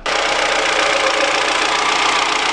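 A Ford Zetec 1.25-litre 16-valve petrol engine with over 334,000 km runs steadily at idle, a loud, continuous mechanical hum and clatter with no pauses, heard close up and alone.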